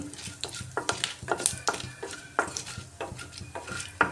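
Whole spices such as cumin and dried red chillies fry in oil for a tempering, a soft sizzle broken by sharp clinks and scrapes of stirring against the pot.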